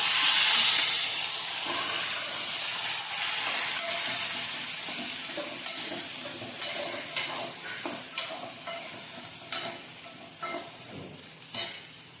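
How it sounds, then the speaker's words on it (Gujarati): Mustard seeds, asafoetida and boiled chickpeas hit hot oil in a kadai, opening with a loud burst of sizzling, then settling into steady frying broken by repeated spoon clinks and scraping stirs. "આપણું તેલ છે તે ગરમ થઈ ગયું છે હવે આપણે તેમાં રાઈ નાખીશું હિંગ નાખીશું ચણા નાખીશું બાફેલા"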